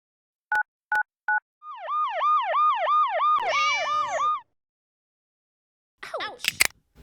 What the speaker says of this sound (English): EMTs arrived in the ambulance to help.